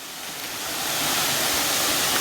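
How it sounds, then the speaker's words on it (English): Champagne River in Saint Ann, Jamaica, rushing steadily, a broad continuous roar of flowing water that swells slightly louder after the first second and stays close and full. "See the river there."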